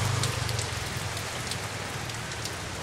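Steady rain falls in a continuous broadband hiss with scattered drop taps on a surface, constant and fairly close, with no voices.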